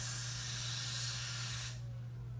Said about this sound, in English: Freeze blast spray.